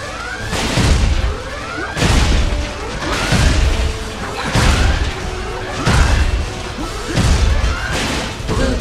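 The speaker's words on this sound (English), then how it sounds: "Blue generator destroyed." Generators explode one after another in the video game Ratchet & Clank: Full Frontal Assault, a series of about six loud, deep booming blasts spaced roughly every one and a half seconds, each with a crashing, crackling tail.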